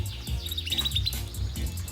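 A female songbird in breeding condition calls restlessly for a male, giving a quick run of bright, close chirps and tweets at a moderate level, alone with no talk.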